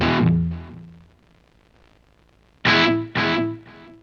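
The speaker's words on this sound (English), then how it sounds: "delay into reverb" An electric guitar plays through a NUX Trident pedal routed delay into reverb: a distorted chord rings and fades into a quiet tail, followed after a pause by two more chords that decay into softer echoes.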